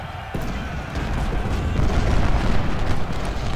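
Artillery fire in Ultimate General: Civil War, a deep rumbling barrage of booms that swells and rolls on continuously, loud and close.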